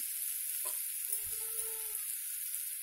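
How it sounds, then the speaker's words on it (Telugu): Onion paste fries in oil for raw nettallu pulusu with a steady, close hiss of sizzling. A brief faint clink and a soft tonal ring sound partway through, and no one speaks. "కొంచెం ఇలాగా ఆయిల్లో వేసి వేయించుకుందాం. 2 మినిట్స్ వేయించుకుందాం."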